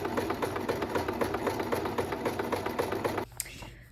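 A sewing machine stitches a tunnel for elastic on a skirt made from a 1970s pattern, running in a fast, steady clatter for about three seconds before stopping with a small click.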